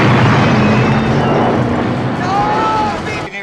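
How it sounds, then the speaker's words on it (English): A loud, sustained roaring blast from an explosion in the 1984 war film Red Dawn, with broad rumbling noise and faint tonal whines before it cuts off abruptly. "Oh, see that explosion?"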